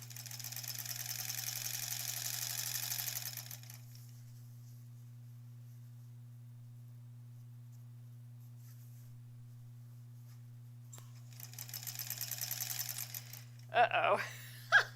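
Sewing machine stitching seams on the backing of a granny squares quilt: one steady run of several seconds, a long quiet pause under a constant low hum, then a second run that stops with a few clicks and thumps.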